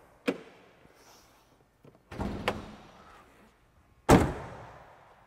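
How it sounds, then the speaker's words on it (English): Hood release and opening of a 2002 Pontiac Trans Am WS6: a sharp click, a scraping metallic rattle with a pop as the latch lets go, then a loud thunk, all close and with no talk. "So let me pop the hood and show you what's under there."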